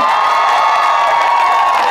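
An audience at a televised music show applauds and cheers for a performing band, a dense, steady wash of clapping and whoops that stays loud and close throughout.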